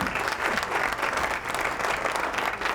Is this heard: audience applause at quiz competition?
yes